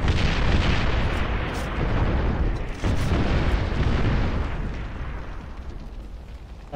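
Artillery shelling in the video game Far Cry 4: a dense, continuous roar of loud explosions and rumbling booms that barely lets up, close and heavy throughout.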